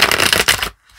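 Tarot cards being shuffled by hand, a dense run of close riffling and flicking for most of the moment, then stopping abruptly into near silence with a faint rustle at the end.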